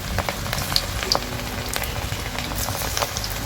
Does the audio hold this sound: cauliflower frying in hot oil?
yes